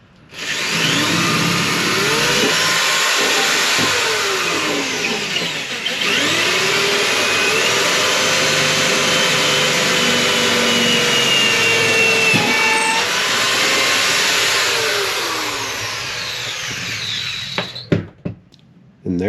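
Power drill boring a 3/8 inch hole through a van's body for a diesel heater fuel line grommet, a loud continuous whine held for long stretches with brief dips and pitch shifts, ending in a few clunks.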